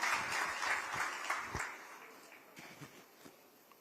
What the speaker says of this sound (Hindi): एक बार जोरदार तालियों के साथ पुनः स्वागत है माननीय मुख्यमंत्री जी का